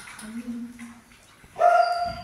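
Dogs bark and yip indoors at a dog boarding hotel with nearly full kennels, a short loud burst of barking near the end after a quieter stretch with faint whimpers.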